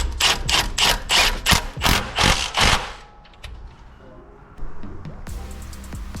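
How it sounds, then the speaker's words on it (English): Rapid series of about nine sharp metallic clicks from a ratchet tightening the crankshaft bolt on a Daihatsu Hijet engine, loud and close, then quieter tool handling and clatter. "I'm just going to be tightening up this bolt"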